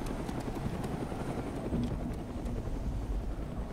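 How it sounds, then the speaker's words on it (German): A helicopter flies in the video game DayZ, its rotor producing a loud, continuous throbbing roar that stays steady and close the whole time. "Wo kommt das andere Heli her?"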